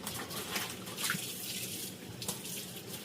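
Water runs steadily from a faucet in a continuous splashing stream, fairly close, with no talking.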